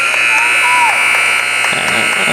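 At a high school boys basketball game, a game clock buzzer sounds as a steady electronic tone over crowd murmur in the gym, lasting most of the moment before the noise shifts.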